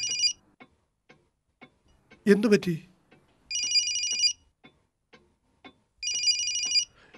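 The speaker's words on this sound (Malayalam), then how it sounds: "നിന്റെ ഫോൺ ഇതേ കിടന്ന് അടിക്കുന്നല്ലോ" A phone rings in three short electronic bursts with pauses between; a voice briefly speaks in one gap.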